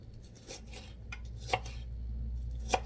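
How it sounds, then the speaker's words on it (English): Garden vegetables are sliced and diced with a knife on a board, giving a few soft scattered cuts with two sharper knocks, close and quiet without speech. "slice them, dice them to whatever size you normally need for cooking"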